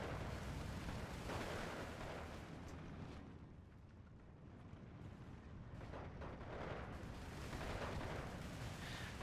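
An off-map artillery strike lands in Steel Division 2 as a continuous heavy rumble of blasts and booms that swells, dips and swells again across nine seconds, with no voices.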